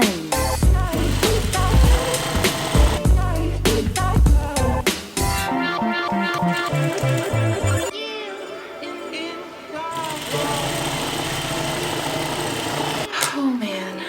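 Sewing machine stitching garments, a fast rhythmic mechanical whir in bursts that starts and stops, close up, with a person talking throughout.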